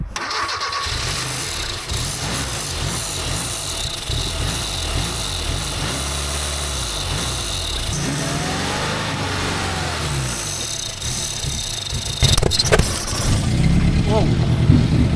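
An old Volvo car abandoned for 31 years cranks and starts on its aged tank fuel, a rough mid-pitched engine churning throughout, with voices talking over it and a louder burst near the end.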